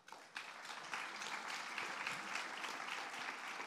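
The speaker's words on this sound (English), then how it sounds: "Just letting your applause happen before I ask another question" An audience at a panel discussion breaks into applause, a quiet, distant wash of many hands clapping that starts abruptly and keeps going steadily.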